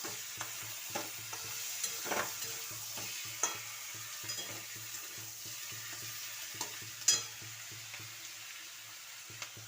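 Chilli chicken frying in a pan, a soft continuous sizzle broken by occasional spatula scrapes and clinks against the pan.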